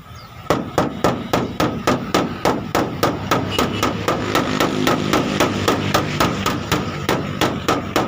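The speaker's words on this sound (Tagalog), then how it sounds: "Maliit lang martilyo ko." Steady, rapid blows of a small hammer on sheet metal, beating out a dent in body repair, ring out one after another, sharp metallic taps repeating at an even rhythm, close and fairly loud.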